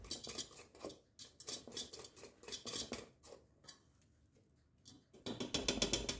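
Spoon or spatula scraping and clinking against a bowl while flour is sifted and folded into cake batter for a fruit-and-nut loaf cake, in irregular bursts of close clatter with a brief quiet stretch, no talking.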